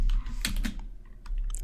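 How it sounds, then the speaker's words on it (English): Typing a SQL select statement on a computer keyboard, a quick close-up burst of key clicks followed by a pause and a few more taps, fairly faint over a low room hum. "So let's quickly check by typing in a quick select statement."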